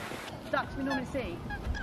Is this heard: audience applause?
no